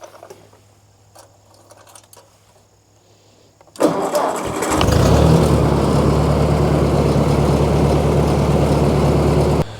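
A Ford 601 series tractor engine cranks and fires after a quiet stretch, then settles into a loud, steady running rumble close by.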